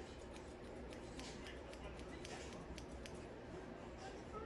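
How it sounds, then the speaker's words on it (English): Scissors snip through thick 4C hair in big sections, a quick run of crisp close cuts over a steady background hiss. "I'm just gonna trim it like this"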